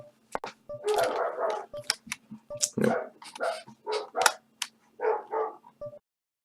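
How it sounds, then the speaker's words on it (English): Dogs bark in repeated loud, close bursts through the whole stretch, with a brief word spoken between them. "these fucking dogs"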